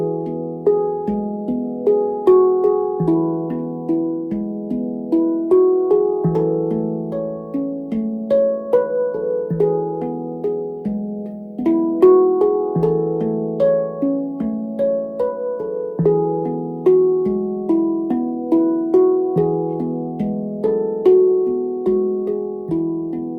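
Handpan playing a full verse of a song, melody picked out in a steady rocking rhythm of ringing, overlapping metallic tones that sustain and decay, alone without voices for over twenty seconds.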